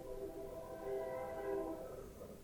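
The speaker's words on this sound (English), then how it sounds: "We got thunder and trains going by." Trains pass by in the video game Factorio, giving a steady, horn-like tonal drone that holds for about two seconds, swells slightly and then fades, with no talking.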